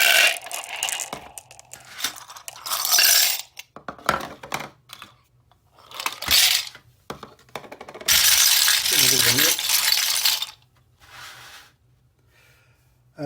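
Mixed recyclable materials, likely metal and other bits, get stirred together in a bowl, producing bursts of loud rattling and clattering that start and stop, with a voice speaking between them.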